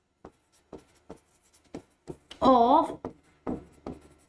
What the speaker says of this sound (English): Let me write down.